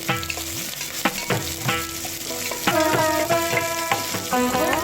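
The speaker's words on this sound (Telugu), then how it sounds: "మసాలా దినుసులు ఉల్లిగడ్డ ముక్కలు పచ్చిమిర్చి ముక్కలు వేసి కొద్దిగా వేగనివ్వాలి" Whole spices, onion and green chilli fry in oil and ghee with a constant close sizzle, broken by repeated metallic clinks and scrapes of a spoon against the pan.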